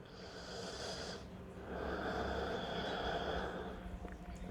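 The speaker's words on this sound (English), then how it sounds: "just start taking some nice long inhales and exhales here." Slow, deep breathing during a power yoga session, with a long airy exhale followed by a fuller breath; soft and close, with no talking.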